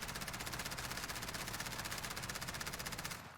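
Sustained rapid automatic gunfire from a console shooter game, a steady dense rattle of shots at an even fast rhythm, loud and alone, cutting off near the end.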